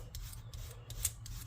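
A hand scraper pulls paint off a wooden surface in quick repeated rasping strokes, close and fairly quiet, with no talk.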